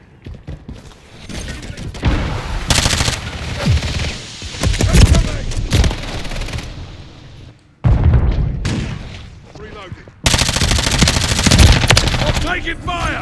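Heavy automatic gunfire in a team deathmatch video game, long loud bursts with booms and brief pauses, close and intense, with occasional player talk underneath.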